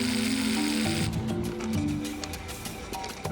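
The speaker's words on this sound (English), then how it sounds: "drill a hole in the concrete." Power drill boring a hole into concrete on the face of a 645-foot dam, a loud steady grinding whine that shifts into rougher, rattling drilling with sharp bursts.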